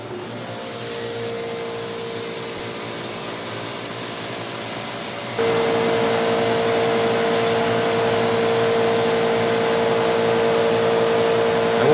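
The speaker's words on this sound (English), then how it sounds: "this power washer is a very low PSI power washer" A low-PSI power washer sprays across a rug, a steady broadband hiss with a motor hum that grows louder and adds a sustained whine partway through, continuous and close with no talking.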